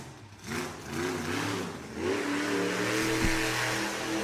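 Monster truck engine revving hard through a freestyle run at the O'Reilly Outlaw Monster Truck Nationals, a loud, steady roar whose pitch climbs and dips with the throttle, with crowd and arena noise underneath.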